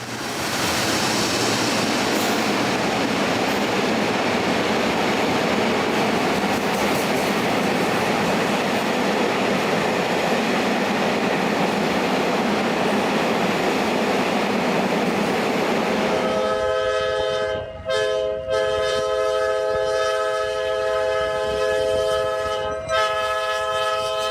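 A Japanese train rushes past in a long, loud, steady roar of wheels on rails, which gives way to a ringing, tonal hum with a few brief dropouts as it recedes.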